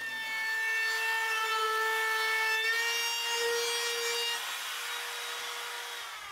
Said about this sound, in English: these two holes that I'm drilling here will fix that